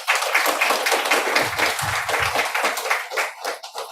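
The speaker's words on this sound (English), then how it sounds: "You can clap for all the fathers." An audience at a Srimad Bhagavat Saptaham gathering claps for the fathers, a sustained, thick round of hand claps that swells and then thins into scattered claps toward the end, with a low murmur underneath.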